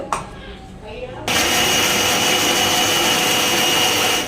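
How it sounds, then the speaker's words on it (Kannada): A mixer grinder starts up partway through and grinds turmeric and onion. After a brief quieter stretch, a loud continuous whirring roar holds steady to the end. "ಅರಿಶಿನ ಮತ್ತು ಈರುಳ್ಳಿನ ಗ್ರೈಂಡ್ ಮಾಡ್ಕೋಬೇಕು ಸೊ ಫಸ್ಟ್ ಇದನ್ನು ಮಾಡ್ಕೊಬಿಡೋಣ"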